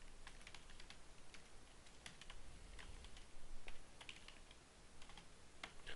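Steady typing on a computer keyboard while entering a name for a new virtual machine, rapid light clicks in bursts, near and quiet with no talk.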